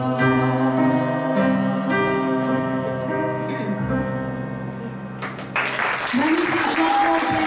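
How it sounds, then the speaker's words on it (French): An audience breaks into loud applause at the end of a song. Sustained music fades into a dense wash of clapping that carries on to the close, with a voice talking over it. "On les applaudit bien fort"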